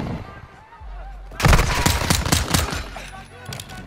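Gunfire erupts in the Modern Warfare 2 video game: a sudden flurry of loud rapid shots and bursts following a quiet moment with a low rumble, with the firing continuing in uneven volleys.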